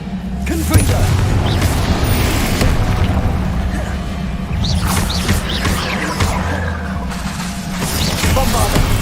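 Repeated Confringo fire-spell blasts from Hogwarts Legacy combat, a string of booming impacts and crashes spread across the stretch amid busy battle noise, with a voice speaking over it.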